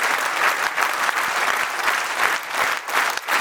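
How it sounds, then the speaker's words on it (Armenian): A concert audience gives loud, warm applause to honor a musician, a dense, steady wash of many hands clapping throughout with no talking. "Բարձր ու ջերմ ծափեր"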